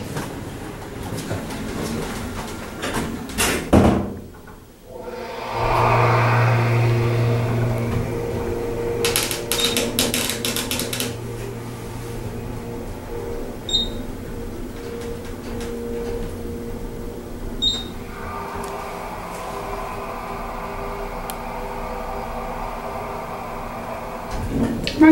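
Hydraulic elevator by Elevator Industries/ECC in a Sacramento Kaiser building: a clunk, then the motor starts a steady low hum as the car rises, and two faint chimes sound along the way.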